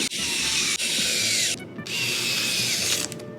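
Power driver sinking a small screw into the plastic shell of a Pokémon GO Plus+, two whirring bursts separated by a short pause, close and fairly loud.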